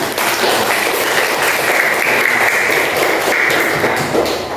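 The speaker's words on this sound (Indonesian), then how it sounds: "tepuk tangan dong" An audience in a teacher-training class session at UIN KHAS Jember claps together in a dense, even burst of applause that holds steady at close range for several seconds with no talk over it.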